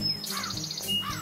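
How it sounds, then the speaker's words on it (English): A small yellow bird chirps in a storybook-style sound effect, bright repeated tweets and a rising warble in two short bursts, close and clear over a soft background hum. "a little yellow bird startled Rocket"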